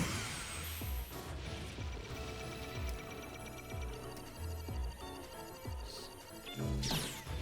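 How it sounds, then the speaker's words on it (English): In The Legend of Zelda: Breath of the Wild, a shield takes hits during a fight with a mounted bokoblin: sharp crashing and whacking impacts repeat irregularly over game music and clicking effects. "Ah, that damaged my shield."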